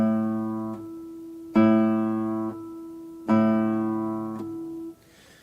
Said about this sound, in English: we're only going to play P and A simultaneously